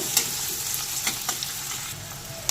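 Chopped garlic and onion sizzle steadily in white oil in a pan for chowmein, with a few sharp clinks and scrapes of stirring over the constant frying hiss.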